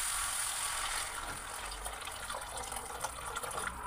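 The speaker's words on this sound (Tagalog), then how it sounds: "Yung pag medyo nagisa na, lagyan na ng tubig para lumabot mamaya." Water poured into a pan of sautéed corn for ginisang mais, a steady rushing pour with gurgling and sizzling as it hits the hot pan, close-up and continuous.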